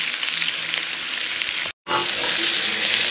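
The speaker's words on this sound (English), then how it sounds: "So let the onions fry a little bit" Onions frying in a pan for a stew make a loud, dense, steady sizzle up close, broken by a brief silent gap before the hiss resumes, with no talking.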